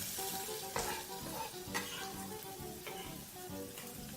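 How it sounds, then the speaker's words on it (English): Onions hitting oil in a smoking-hot pan for beef bobotie, a close, bright sizzle with a few louder bursts as the pieces are tossed and stirred, no voices. "And then we're just going to start adding our onions."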